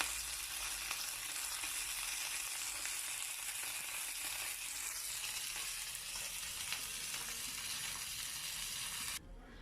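Salmon fillets sizzle and fry steadily in a hot pan, a dense, even crackle that holds close and loud throughout before cutting off abruptly near the end, with no talking.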